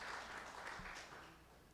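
A church congregation applauds at a morning service, a short, faint wash of clapping that fades toward the end.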